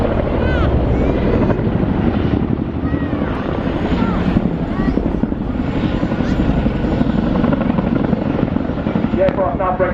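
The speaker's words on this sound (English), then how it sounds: "I'll give you the 2022 Chinook display." A Chinook twin-rotor helicopter roars continuously overhead during a flying display at the 2022 Royal International Air Tattoo, its loud rotor thrum filling the air with a commentator and crowd faintly audible beneath.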